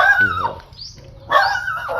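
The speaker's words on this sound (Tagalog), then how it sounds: "Ano tong aso ito? Ayaw tumigil ka" A dog barks and whines twice, a short yelping cry followed after a pause by a longer, higher whimpering bark, close by and fairly loud.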